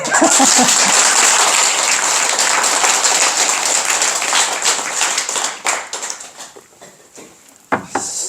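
Audience applause at a Sunday Buddhist dharma service in a temple hall, a dense loud patter of many hands that thins and fades toward the end with a few scattered late claps.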